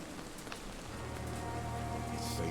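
Steady rain falls in the video game Vampyr, a dense, even hiss of drops on surfaces that carries on without pause at moderate loudness, with a low background hum beneath and no one talking.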